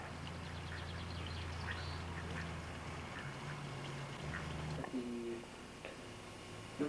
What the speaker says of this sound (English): And some ducks taking advantage of the raceway for the water.